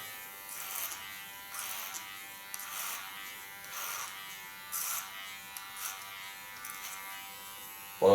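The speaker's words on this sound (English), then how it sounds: "What I like about this clipper is that it is ultra nice to work with" A cordless hair clipper buzzes in a steady electric whine while cutting hair at the back of the head, swelling in repeated passes every second or so, close and continuous with no talking.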